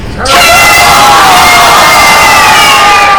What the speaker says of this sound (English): we would really like you guys to join us in the biggest, loudest turtle power you can scream